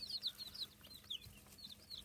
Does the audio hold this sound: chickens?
yes